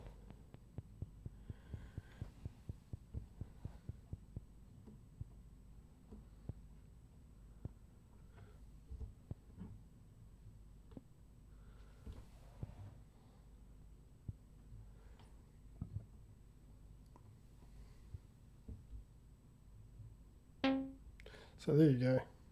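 A Serge Variable Slope VCF synthesizer filter patched as a low pass gate gives a train of soft, plucky, low-pitched percussive hits, quick and regular at first then sparser, with a brighter burst near the end.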